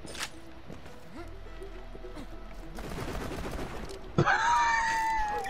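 Scattered gunshots in the video game Tiny Tina's Assault On Dragon Keep, a burst of rapid shots in the middle followed by a louder ringing game effect, with some voice activity nearby.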